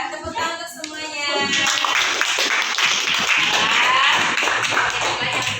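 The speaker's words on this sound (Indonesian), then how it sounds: "tepuk tangan untuk semuanya" Group of people, likely children in a classroom activity, clapping together: after a short spoken phrase, a loud, dense round of hand claps builds and continues steadily for several seconds.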